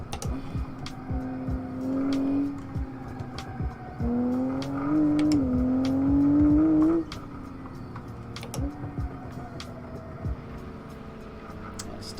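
Tyres squealing in a Nurburgring racing video game, a car understeering through corners with rising, wavering tonal screeches over steady engine drone, in several bursts of a few seconds each.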